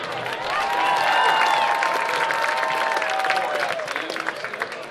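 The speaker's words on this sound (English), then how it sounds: "Please give a round of applause for Kaylee." A crowd at a high school football game applauds and cheers, a full, steady wash of clapping with some whistles and shouts heard from within the stands, lasting about five seconds.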